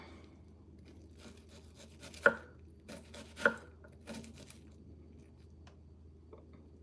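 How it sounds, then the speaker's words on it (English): Kitchen knife chopping onion for taco ground beef, a few sharp separate cuts on a board with short pauses between them, fairly close and clear over a faint low hum. "When you're cutting up your onion, that you're not paying attention to anything"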